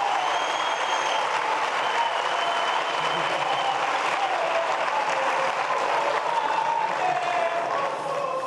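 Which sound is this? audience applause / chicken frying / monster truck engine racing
audience applause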